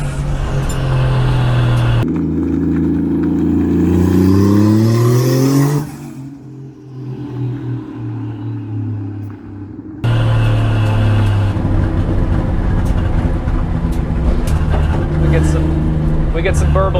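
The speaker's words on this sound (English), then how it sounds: "We get some burbles down though" Rough, throaty engine of a Chevy Nova fitted with a swapped Toyota 1JZ inline-six, revving and pulling loud and close, easing off into crackly exhaust burbles before building again.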